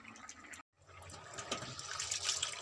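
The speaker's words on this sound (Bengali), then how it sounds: "তো চলো চালটা ধুয়ে তুলে দিই" Rice being washed in water in a home kitchen, soft sloshing and trickling with a brief silent gap near the start, close and fairly quiet.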